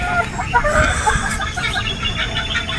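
Boston Roundhead chickens on a Batangas game farm clucking in quick, overlapping bursts close by, with scattered chirps and rustling in the pen and no clear talk.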